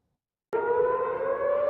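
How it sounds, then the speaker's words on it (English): A civil defense air raid siren in Tel Aviv starts abruptly after a moment of silence and holds a loud, steady wailing tone through to the end. "sirens rang out in Tel Aviv as rockets flew overhead"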